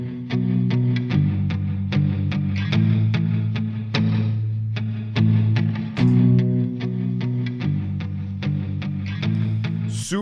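An electric guitar loop plays through a Hologram Microcosm pedal looper, repeating strummed chords with a lo-fi effected tone, steady and up close with no talking.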